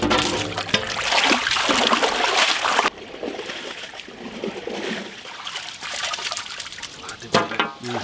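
Water splashes and trickles as raw mutton pieces are washed by hand for handi mutton curry, irregular close sloshing with a short pause partway through.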